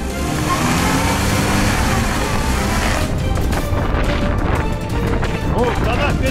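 Lada 4x4 with three locked differentials, its engine held at high revs while wheels spin, a loud, continuous roar with rough grinding and thumps, close up and dense throughout, with voices mixed in.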